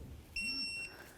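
A torque wrench on a 2007-14 Cadillac Escalade lower ball joint nut gives one clear, steady electronic beep lasting about half a second, close and sharp over quiet shop background.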